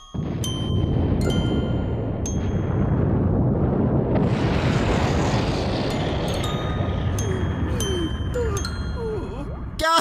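Cartoon scene of Courage the Cowardly Dog's parents being shot out into space: a loud, sustained roaring blast with a rising whoosh, scattered bright chimes and twinkling tones over the top, continuous and dense throughout.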